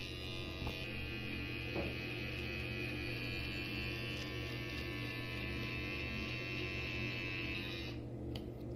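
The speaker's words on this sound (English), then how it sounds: "I'm gonna start shaving my neck." Electric razor buzzing steadily while shaving the neck, a close, even hum with faint tonal whine that runs for about eight seconds and then cuts off.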